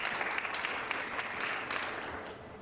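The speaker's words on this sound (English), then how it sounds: "I just want to applaud you guys before you're finished with your term" Applause at a township board of supervisors meeting, a brief burst of clapping from a modest room audience, even and fairly close throughout.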